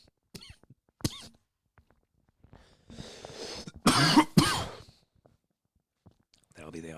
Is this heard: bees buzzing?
no